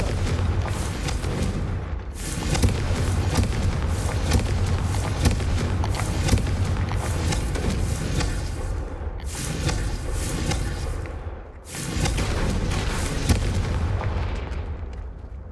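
Confringo spell explosions in the Hogwarts Legacy video game: dense, continuous booming blasts and bursts rumbling loud and close for the whole stretch, with two brief drops around the middle and near the end, no talking.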